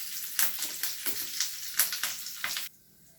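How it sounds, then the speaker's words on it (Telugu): Tempering for coconut chutney sizzles in hot oil with urad dal, mustard seeds, curry leaves and dried red chillies, with rhythmic spoon strokes over a steady crackle that cuts off sharply near the end. "కొబ్బరి చట్నీకి పోపు వేసుకుందామండి."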